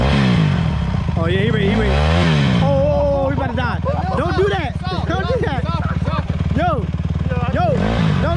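A dirt bike engine revs hard and unevenly in first gear as a beginner works the throttle and clutch, loud and close, with the pitch surging up and down while people talk over it.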